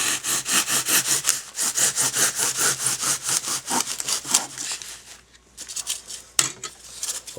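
A saw cuts off the front leg of a rabbit taxidermy form, rasping in steady close strokes with a short pause near the end before resuming.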